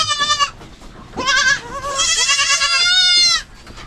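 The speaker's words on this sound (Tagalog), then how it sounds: "Ang iingay sa ating mga kambing." Loud goats bleating close by, several wavering calls one after another with brief pauses, overlapping near the end; a herd including newborn kids.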